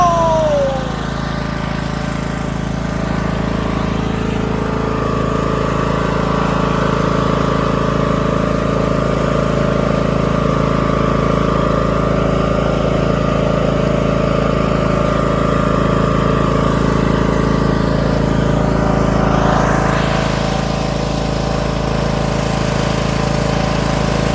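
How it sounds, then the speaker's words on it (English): A Toro Wheel Horse 1438HXL hydrostatic lawn tractor engine runs steadily nearby, a continuous droning hum with a slight rise in revs toward the end. "Got another tractor going."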